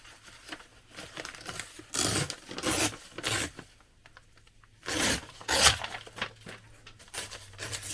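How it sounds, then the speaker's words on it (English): Edge of a paper bag journal page being torn by hand, several short rough ripping bursts separated by pauses, close and moderately loud. "And I'm going to tear the edge."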